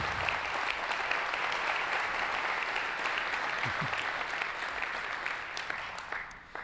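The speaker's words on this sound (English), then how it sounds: "Give them a round of applause, you guys." Audience applause at a team gathering, continuous even clapping that stays steady and moderately loud throughout before tapering near the end.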